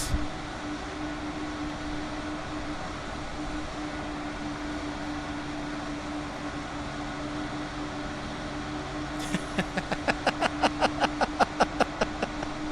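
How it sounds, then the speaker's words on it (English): Airliner taxiing toward the runway in Microsoft Flight Simulator 2020, a steady engine hum and drone throughout, joined near the end by a fast series of regular clicks or thumps, with no speech. "we're taxiing out to runway 1 right"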